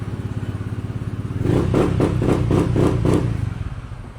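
A motorcycle engine idles close by with a steady low chug, then a short burst of rhythmic revving pulses before it settles back to idle.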